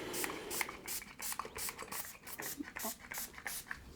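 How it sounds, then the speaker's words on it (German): A spray bottle mists alcohol onto an O-scale model railway station from some height, giving a rapid series of short hissing spritzes in an even rhythm, close and fairly quiet, with no talk. "So, jetzt sprühe ich aus einer größeren Höhe den Alkohol drauf."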